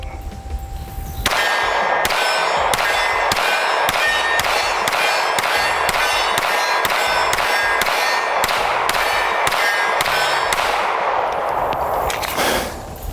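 A Canik pistol fired at steel targets, a fast, even string of about fifteen sharp shots, each followed by a bright metallic ring, loud and close with no talking.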